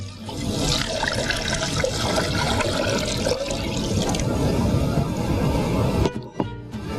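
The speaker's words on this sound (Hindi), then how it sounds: "दूध इसमें आ गया" Hot milk pours steadily into caramel in a pan, a continuous close liquid rush and sizzle lasting several seconds before easing off near the end, with no talking.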